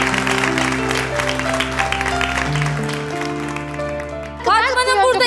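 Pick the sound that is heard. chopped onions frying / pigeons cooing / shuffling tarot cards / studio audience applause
studio audience applause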